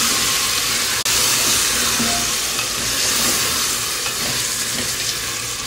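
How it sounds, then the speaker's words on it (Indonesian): Tomatoes and chili sizzling in a hot pan as they are stirred, a loud steady frying hiss with a short clunk of the utensil early on, no speech. "Lalu kita taruh tomatnya. Kita balik lagi."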